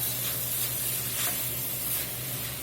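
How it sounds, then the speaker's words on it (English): Liquid hisses and sizzles steadily in a hot pot while the browned bits are deglazed for a spicy pork pastalaya, close and continuous, with a faint low hum underneath and no talk. "We're going to let that liquid evaporate and concentrate, and then at the same time deglazing the pot again."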